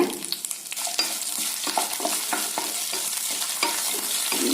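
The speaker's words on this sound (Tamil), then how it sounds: "இதையெல்லாம் சேர்த்து நல்லா பொன்னிறமா வறுத்துக்கலாங்க" Shallots, garlic and spices sizzle and crackle steadily in a hot pan as they fry golden, with occasional stirring scrapes and no talking.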